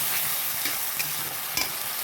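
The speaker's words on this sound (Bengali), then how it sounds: "একটু ভেজে নিচ্ছি।" Onion frying with ground spice paste in a pan for a rui and katla fish curry with winter cauliflower, a steady close sizzle broken by a few sharp scraping stirs, with no voices.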